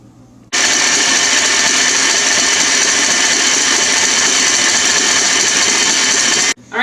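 An electric mixer whisks cream and condensed milk for no-churn ice cream. It switches on abruptly with a loud, steady, high-pitched whir that holds constant for about six seconds, then cuts off.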